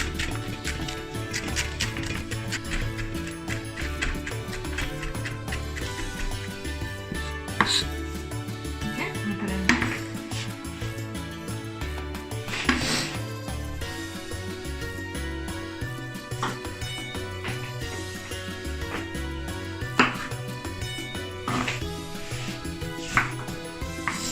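Celery being chopped for tacos with a knife on a cutting board, a long run of quick, steady, close-up chops that carries on alone with no talking.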